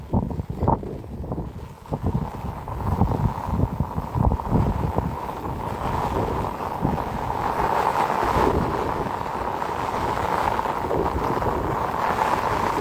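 Strong wind at a dam buffets the microphone with steady roaring rumble and gusty thumps throughout, no voices.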